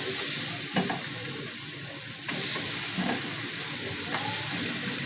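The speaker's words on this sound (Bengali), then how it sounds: "তো আমার মরিচ পেঁয়াজ কষানো হয়ে গেছে, আমি এখন মাছগুলো দিয়ে দিতেছি।" Loitta fish (Bombay duck) go into a pan of fried chili and onion with a steady loud sizzle and hiss, broken by a few soft knocks and clatters from the pan.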